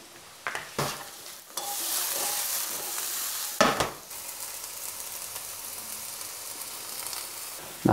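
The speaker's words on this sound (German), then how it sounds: "Die möchte ich nämlich auch ein klein wenig anbraten." Button mushrooms and bell pepper fry in a hot pan with a steady, close sizzle, broken by a few louder bursts of stirring and scraping.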